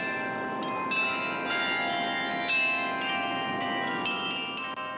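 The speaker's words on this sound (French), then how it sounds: "un concert de carillon. On écoute quelques instants." Carillon bells ring out a melody, overlapping bright tones sustaining and layering with long resonant decay, steady and fairly loud with no talking.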